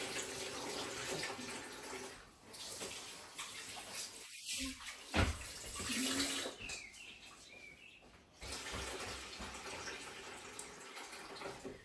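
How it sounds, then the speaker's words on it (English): Rice gets washed in water in a kitchen sink, with running and sloshing water rising and falling at moderate volume, a few sharp splashes in the middle and no talking. "I'm going to wash first our rice"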